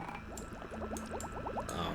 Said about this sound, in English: Oh no. I spilled the water.